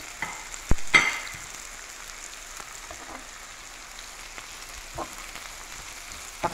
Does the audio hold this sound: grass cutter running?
no